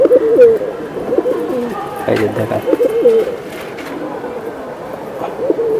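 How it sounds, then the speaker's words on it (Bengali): Giribaz hammer pigeons coo in repeated throaty bursts close by, while someone talks over them. "দর্শক দেন কবুতরগুলো দেখেন"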